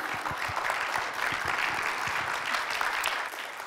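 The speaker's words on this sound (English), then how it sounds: "Round of applause." A congregation at a Sunday worship service breaks into applause, a full, even burst of many hands clapping close by that holds steady and eases off slightly at the end.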